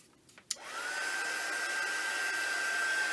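A hair dryer switches on after a couple of soft clicks and blows steadily over a monoprinted art journal page, a close, even whirring whine that holds to the end.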